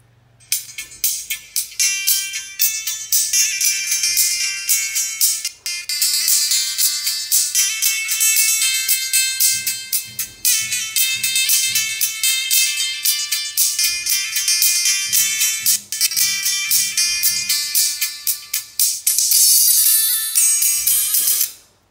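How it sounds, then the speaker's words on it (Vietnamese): A GTO tweeter loudspeaker playing a bright, piercing ringtone melody, loud and continuous with rapid repeating notes and faint low thumps underneath, no talking. "Đây là cái loa chép GTO là như lúc nãy mình đã giới thiệu rồi này."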